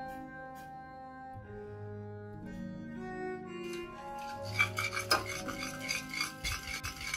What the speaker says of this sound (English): Add the mixture into the boiling water and then stir continuously until it's all mixed